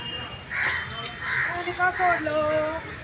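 A paralysed crow caws a few times as it is given water, harsh and fairly near, while a person talks over it.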